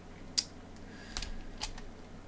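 A few sparse keystrokes tap on a computer keyboard while someone edits a Microsoft Word template. The faint clicks come singly and in a short cluster over quiet room hiss.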